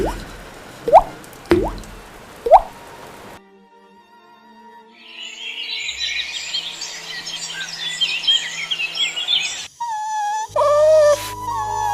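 Water drips from a leak in a cartoon story: three sharp, separate drops land early on, followed by a quiet gap and then chirping, bird-like sounds.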